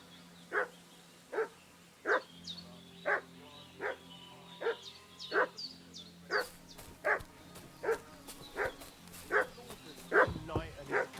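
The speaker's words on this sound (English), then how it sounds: "What's that dog making such a fuss about?" A dog barks repeatedly in Kingdom Come Deliverance II, about a dozen evenly spaced barks at a steady rhythm, moderately near over a low ambient hum.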